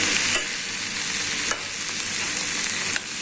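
Roasted corn with soy sauce is stirred in a hot pan, a loud continuous sizzle broken by three brief scraping knocks from the spoon, with no talking.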